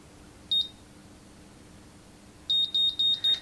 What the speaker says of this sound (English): it will beep until it's time for you to take it out, and then it will double beep.